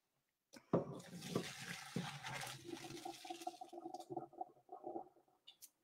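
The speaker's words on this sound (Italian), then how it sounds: "Vado a scolare i miei spaghetti." Cooked spaghetti poured into a colander, a rush of water splashing and draining for several seconds, then trickling and gurgling as the flow tapers off in a kitchen sink.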